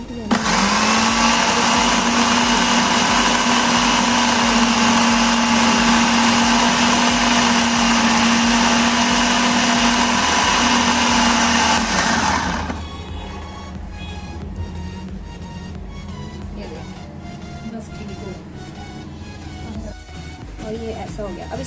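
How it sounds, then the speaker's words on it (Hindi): An electric chopper whirs at a loud, steady high pitch while chopping chicken shami kabab mixture, running for about twelve seconds before cutting off, leaving quieter handling noise and light clatter afterward. "बस इसको चॉपर में चॉप कर देना है थोड़ा थोड़ा करके"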